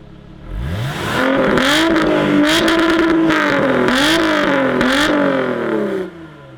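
A nearby Lotus sports car engine revs up and holds high, rising and dipping in a few surges over several seconds before cutting back.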